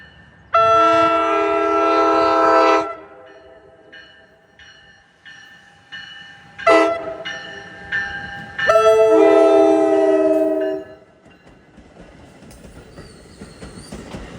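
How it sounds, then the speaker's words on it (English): A commuter train out of Waldwick bound for Hoboken, running on the ex-Erie Main Line in northern Bergen County, New Jersey, sounds two long, loud horn blasts with a short toot between them as it passes a lowered grade crossing, then rumbles on. "gates are going down for train 1266 out of Waldwick to Hoboken via the Bergen bi-levels"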